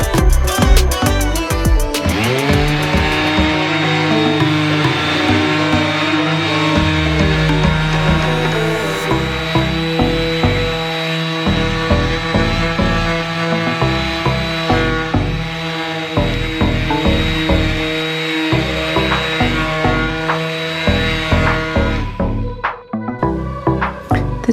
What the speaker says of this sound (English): the first thing will be to sand the top